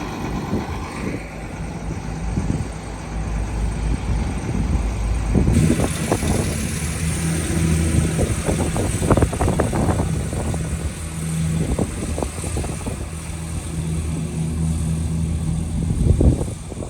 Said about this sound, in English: Yeah, both tractors going.